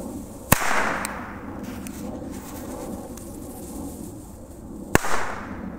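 Chinese firecrackers go off outdoors in two sharp, loud bangs several seconds apart, each followed by a brief rumbling echo, with a fainter pop between them against a quiet background hum.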